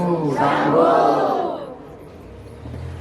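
A large crowd loudly chants "Shambhu" in unison, a dense many-voiced call that swells over the first second and a half, then drops to a lower murmur.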